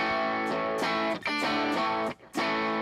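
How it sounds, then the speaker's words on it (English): An electric guitar through a rock distortion effect with amp gain at 70 rings out in a few loud, sustained chords, each struck and held, separated by brief pauses. "you can hear this is kind of like a rock distortion sound"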